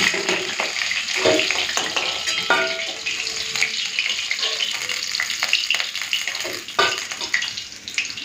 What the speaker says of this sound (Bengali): এই কটা মাছ আছে, ভেজে নিই।